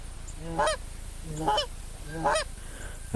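Three honks from geese spaced about a second apart, moderately distant and clear over a quiet outdoor background during a goose hunt.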